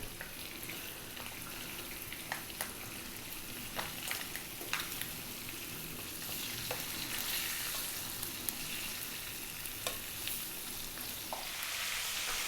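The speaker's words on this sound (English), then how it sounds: "Okay, that fish is fried beautifully." Fish pieces frying with spices in a pan, a soft steady sizzle with scattered small pops and occasional light clicks, fairly faint and continuous, no talk.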